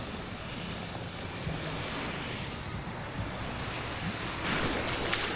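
Ocean waves washing onto a fine-sand beach in Anda, Bohol, a steady loud surf roar with wind buffeting the microphone and a brief splashing crest near the end.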